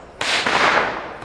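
A Diwali firecracker bursts once with a loud, sharp crack, then a broad hiss that fades over about a second, with no voices.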